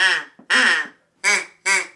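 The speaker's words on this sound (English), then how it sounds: "Here's a really cool duck call that I have here, this burl." A wooden burl duck call is blown close up in four loud, nasal quacks: two longer ones, a gap, then two shorter ones in quick succession.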